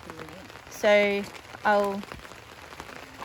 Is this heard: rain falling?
yes